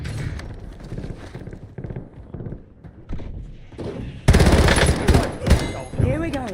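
Rapid automatic gunfire bursts from a weapon in the video game Black Ops 7, a run of sharp loud shots followed by a heavier dense volley near the end, with a voice speaking in between.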